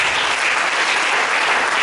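A church congregation applauds during an Easter Sunday worship service, with dense, steady, loud clapping close by and a faint crowd murmur.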